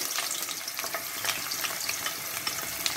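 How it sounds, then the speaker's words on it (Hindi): Onions frying in hot mustard oil in a pan, giving a steady, close hiss of sizzling with small crackles and stirring sounds throughout and no voices. "अभी मैं इसमें प्याज डालूंगी।"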